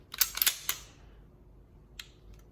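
A Sig SP2022 9mm pistol being racked and cleared gives a quick cluster of sharp metallic clicks and clacks up close, then a single short click a moment later in otherwise quiet surroundings.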